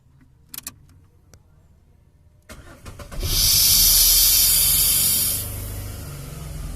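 A car's self-starter is pressed on a vehicle with a leaking brake booster. Key jangles and clicks lead into a loud, sustained hissing rush over a low engine rumble, which then eases to a steadier idle.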